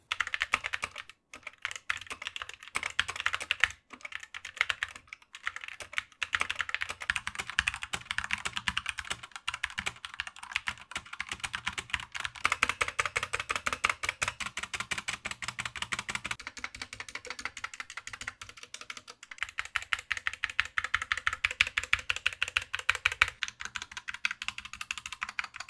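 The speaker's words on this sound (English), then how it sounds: "I really do love typing on this thing." Rapid, continuous clacking of a Geek GK61 optical mechanical keyboard, fast keystrokes at close range, steady throughout with brief pauses.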